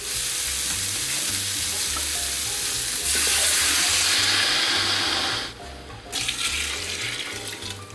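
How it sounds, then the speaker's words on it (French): Spices frying in a pot for lamb couscous, stirred steadily with a loud continuous sizzle and scraping, a brief dip near the end before the frying noise resumes; no voices. "Je vais ajouter toutes les épices en même temps et d'un seul coup. Et on va remuer."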